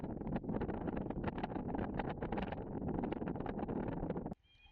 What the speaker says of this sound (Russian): дует сильный, но не холодный ветер, к тому же попутный